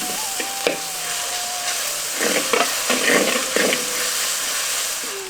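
Ground ginger-garlic paste sizzles and fries in hot oil for a village-style white mutton kurma, a steady hissing bed with occasional stirring scrapes and clatters, no talking.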